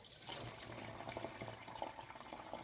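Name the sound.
pouring cinnamon lemon drink into a bottle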